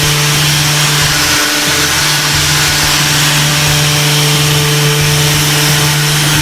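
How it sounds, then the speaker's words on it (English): A power sander drones steadily and loudly on an MDF door, a constant buzzing hum with a gritty hiss of abrasion, unbroken throughout. "We're letting the vibration and the isolation of the machine do the work for us."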